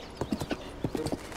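In The Legend of Zelda: Tears of the Kingdom, a horse's hooves clop in an uneven walking rhythm, about eight soft, close footfalls over a faint game ambience.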